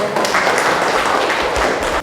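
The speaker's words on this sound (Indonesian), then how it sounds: "Tepuk tangan dulu dong." A classroom of students clapping together, dense steady applause throughout the short burst.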